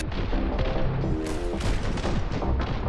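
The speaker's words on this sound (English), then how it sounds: "You've got dual pistols, shotguns, SMGs, everything you need to keep the action messy and loud." Rapid, continuous gunfire from dual pistols, shotguns and SMGs in an action video game, loud and dense throughout with overlapping shots and booming impacts layered over a busy game soundtrack.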